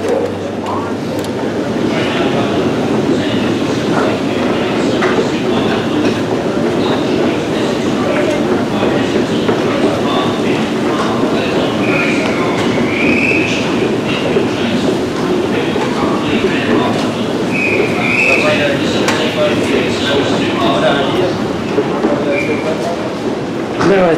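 A train runs at Moorgate Railway Station in London with a steady, loud rumble and rattle throughout, plus a few higher squeals or tones, while voices talk over it.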